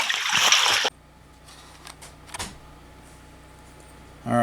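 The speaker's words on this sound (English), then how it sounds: "we need some water to flush the toilet" Water poured from a container to flush a toilet during a snowstorm power outage: a brief, loud splashing gush that stops abruptly, followed by quiet trickles and a short rush at the end.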